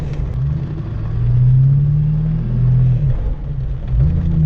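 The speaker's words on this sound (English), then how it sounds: "Just a little burnout." A manual car does a short burnout in pouring rain, its engine revving up in a loud, close, rising-and-falling drone for a few seconds with no talk.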